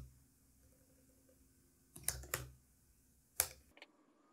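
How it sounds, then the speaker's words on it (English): A few quick keystrokes on a computer keyboard while entering a terminal command, faint close clicks in two short bursts separated by a pause against a quiet background hum. "I just type in pip environment install Gunicorn."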